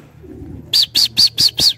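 Pigeons in a loft coo softly and low, then five quick, loud bursts of flapping wings follow in an even rhythm, close by.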